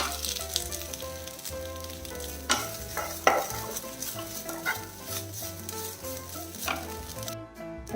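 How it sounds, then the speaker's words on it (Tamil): Grated coconut roasts quietly in a pan over medium flame while a spatula stirs and scrapes it in uneven strokes, with a gentle dry sizzle underneath. "தேங்காய் வந்து வறுத்தது போதும்."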